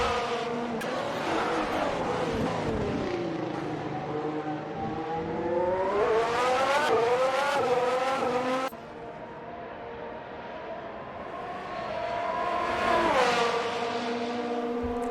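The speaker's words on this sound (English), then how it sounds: "Bavona is all over Davidas, but Davidas positions his car perfectly" Formula 1 race cars racing in a video game at the Canadian Grand Prix, loud high-pitched engines rising and falling through gear changes as cars pass close by, with no talking.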